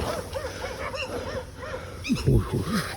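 Dogs barking and yelping nearby in a quick run of sharp barks, the last ones louder and closer, with people talking over them.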